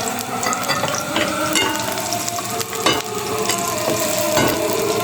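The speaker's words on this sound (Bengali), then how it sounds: "তেলটা গরম হয়ে গেছে, এখন আমি পেঁয়াজ আর কাঁচামরিচ দিয়ে দিলাম।" Onions and green chillies sizzle in hot oil in a home kitchen, a steady close crackling fry that holds loud and continuous throughout, with no talking.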